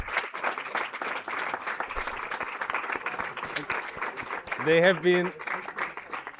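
Scattered clapping from a graduation audience honouring volunteer mentors and coaches, a thin, uneven patter of hands with a brief voice breaking in midway.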